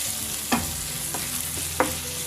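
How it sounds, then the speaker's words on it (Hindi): Roughly chopped onion fries in oil in a pan, a steady soft sizzle with a few brief clinks and scrapes of stirring, close by and even, no voices. "एक प्याज को रफली चॉप कर लिया था, वो इसमें ऐड करेंगे हम। और इसे हमें जब तक भूनना है"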